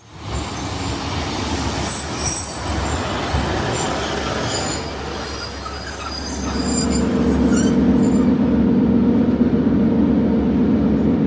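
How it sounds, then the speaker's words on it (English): A train rolls into a station loudly, wheels squealing and a heavy rumble building as it draws closer and slows, with no talking. "So our train should be arriving now to take us to Yorton"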